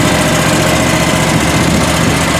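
A 2019 John Deere 652R QuikTrak stand-on mower engine idling just after starting, a loud, steady mechanical drone with even vibration and no talking.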